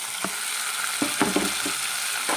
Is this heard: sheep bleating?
no